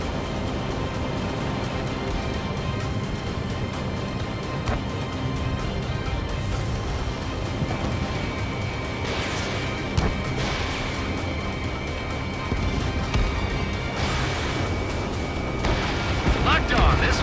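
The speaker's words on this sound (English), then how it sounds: "Missile launched." A missile launches and detonates in the Ace Combat 7 flight game, with low rumbling booms and thuds over steady jet engine roar, and radio chatter voices running throughout.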